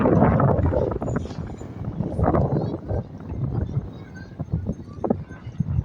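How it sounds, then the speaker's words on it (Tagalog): Heavy wind buffets a phone microphone, producing loud, continuous low rumbling and gusty roaring throughout, with no clear speech. "napakalakas lang talaga ng hangin"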